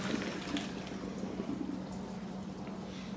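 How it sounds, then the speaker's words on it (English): Water and boiled squash pour out of a cooking pot as it is drained. The liquid gushes in a steady, nearby splashing stream for a few seconds. "I'm going to turn the burner off, swing the handle around to the man. He's going to drain it for me."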